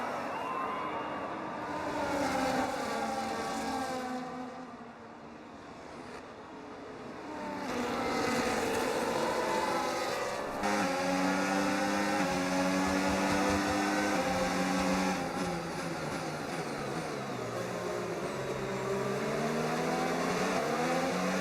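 F1 race cars launch off the grid at the start of a race in F1 25, a pack of engines screaming and rising in pitch through gear changes, loud and sustained with overlapping whines.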